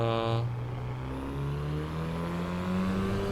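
Race car engine in the Assetto Corsa EVO driving simulator, a steady sustained drone with pitch shifting as revs change, heard alone and continuously at a constant level.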